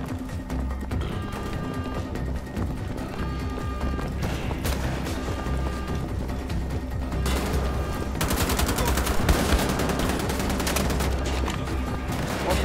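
Sustained gunfire in a Wolfenstein: The Old Blood firefight, a steady stream of loud rapid shots over a constant game ambience and music bed, growing denser toward the end.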